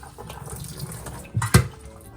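Water runs from a tap while paneer is rinsed in a kitchen sink, a soft steady flow with a brief louder splash near the end.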